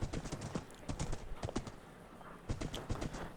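Horse hooves clip-clop in Minecraft as a ridden horse sets off, with quick, fairly loud hoofbeats coming in irregular clusters and a short pause in the middle.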